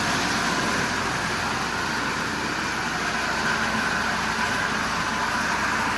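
A Marx B&O diesel toy locomotive with a bypassed E unit runs at low power, its motor giving a steady, dense whirring hum with a broad hiss, continuous and even throughout.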